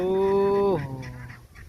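A duck gives a single drawn-out nasal honk lasting under a second, loud and close, and then fades into quieter outdoor background noise.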